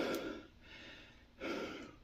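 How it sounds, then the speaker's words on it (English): Person panting from the heat in a warm room, two close breathy exhales about a second apart, soft and airy, with no words spoken. "so you're going to hear me panting a little bit"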